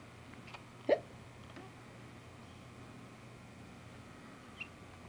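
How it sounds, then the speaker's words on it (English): A baby girl hiccups once, close and distinct, followed a few seconds later by a second, fainter hiccup in an otherwise quiet room. "She knows how to hiccup."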